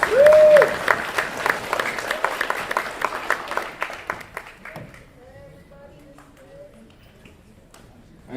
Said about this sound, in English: one more round of applause for the Morris William Elementary School students.